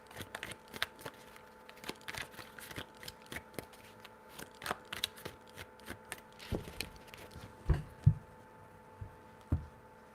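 Quiet tarot card shuffling: a steady patter of light flicks and soft slaps, with a few sharper knocks near the end. No speech.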